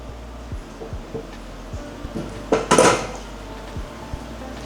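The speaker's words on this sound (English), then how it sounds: "Let's go ahead and take your sausage and mix it in." Sausage is mixed into Thanksgiving stuffing in a dish, a series of soft spoon taps and scrapes against the dish, with a louder burst of mushy scraping near the middle, close up and without speech.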